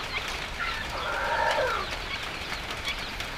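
Four-week-old Rhode Island Red chicks and their parent stock in a brooder house at dusk, giving soft, continuous murmuring clucks and chirps with one brief louder call rising in the middle.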